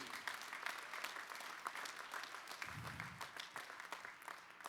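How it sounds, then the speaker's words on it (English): Audience applause at a conference closing ceremony, steady clapping from a crowd that fills the whole stretch at moderate level, with no voices standing out. "So a big round of applause for all these people standing at the back."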